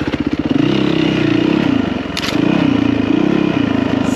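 A Yamaha WR450 dirt bike engine pulses and revs hard up close as the bike climbs a steep rock wall, with uneven throttle bursts and some scraping and clatter.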